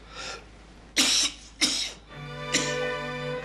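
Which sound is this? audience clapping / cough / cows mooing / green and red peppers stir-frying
cough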